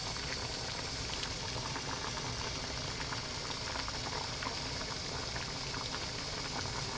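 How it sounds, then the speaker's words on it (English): Fiddleheads boil in a pot of water, giving off a faint, steady bubbling hiss that never lets up. "Remember to boil your fiddleheads for at least 15 minutes, people."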